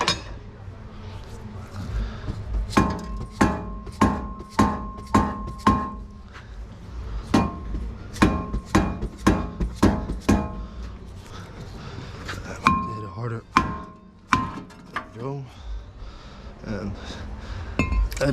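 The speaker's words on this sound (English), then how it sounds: "so you're using a rubber mallet, should be fine" A rubber mallet strikes the front wheel hub assembly of a 2011 Audi A4 in a series of sharp metallic blows, loud and near, coming in quick bursts with pauses between them and occasional talk.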